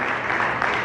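Brief burst of steady clapping from an audience at a Mazda CX-3 launch event in the Philippines, dense and even throughout.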